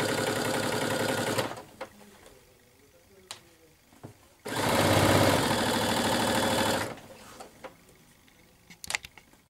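A sewing machine stitches a drawstring casing on a dress 1 mm from the edge, running in two loud sustained bursts of about three and two seconds, separated by quieter pauses with small clicks and handling noises.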